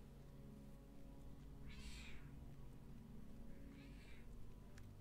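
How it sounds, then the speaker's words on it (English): A cat meows twice in a quiet indoor setting, the calls faint and distant and separated by a pause, over a low steady background hum. "You let your cat hear Thiefy's meow, and now she gave you such a look."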